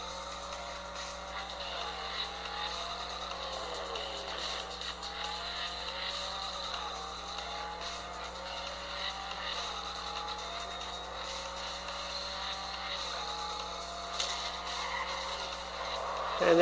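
Car racing game audio from Real Racing 3 playing on a Samsung Galaxy Note 8.0 tablet, with steady engine drone and shifting engine pitch through a multi-car race, plus occasional tire noise, continuous and moderately loud with no talk.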